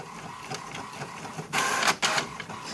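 A printer runs a print job on clear sticker paper, with a low steady whir building into two loud feed-and-print bursts close by and no voices.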